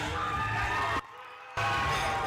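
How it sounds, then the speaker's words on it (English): A crowd cheers and shouts loudly at a USA Powerlifting meet as a lifter deadlifts, with whoops over a dense roar that drops out briefly and then returns at full strength. "The crowd came alive, I'm assuming, for Kenny Dow's deadlift"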